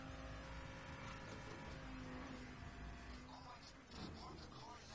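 A car's engine hums continuously as it is driven and parked in the video game Payday 2, a steady mid-pitched drone with game effects and someone speaking over it.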